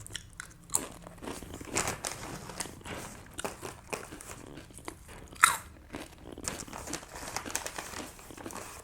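Crispy potato chips being bitten and chewed up close, with sharp crunches and crinkling bag rustles in an irregular rhythm and no talking.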